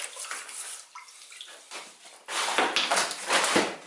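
Water sloshing and splashing as a plastering bucket is rinsed, irregular wet bursts that grow louder and busier toward the end, no talk.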